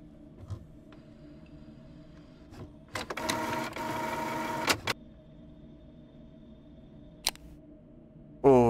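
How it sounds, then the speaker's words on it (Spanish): Office printer running: a quiet room, then a couple of soft clicks before a steady mechanical whir of about two seconds, followed by one brief click and a louder final clunk. "Esta es la impresora, imagino."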